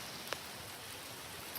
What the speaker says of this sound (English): This is like the rain on the island.